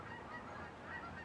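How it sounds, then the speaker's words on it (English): Migrating geese honk faintly in the distance, a steady wash of overlapping calls with no talking. "I hear geese. Geese are migrating."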